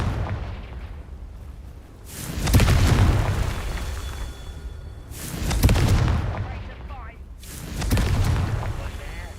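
Confringo fire spell explosions in Hogwarts Legacy, three heavy booming blasts spaced a few seconds apart, each with a rumbling tail, while a voice speaks between them.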